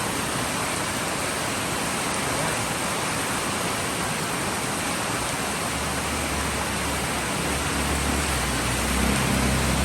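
Heavy rain falling on house roofs in a constant dense roar, with a low hum joining near the end.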